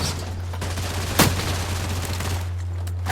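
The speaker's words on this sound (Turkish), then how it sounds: "Önümüzde silah sesi var." A single sharp video game gunshot on the Erangel map rings out against a steady low hum and background noise, with no voices.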